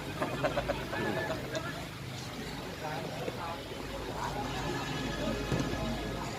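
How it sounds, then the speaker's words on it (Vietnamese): Heavy rain pours steadily throughout, a dense wash of noise over a low rumble, with crowd voices and a commentator talking faintly under it during a ball game. "trời bắt đầu nổi những cơn mưa nặng hạt hơn"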